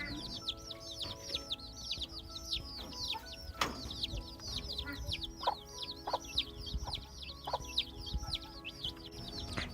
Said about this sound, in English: that sound is a sound that she makes when she is speaking to her chicks